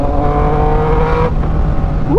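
Yamaha Niken three-wheeled motorcycle engine revving loud and close, a steady raspy exhaust drone that holds and then rises sharply in pitch at the end.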